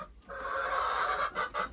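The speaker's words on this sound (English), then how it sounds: "There's some chickens for you." Chickens clucking inside a backyard coop, a steady close cackle of several hens with a few sharper calls near the end, no talking.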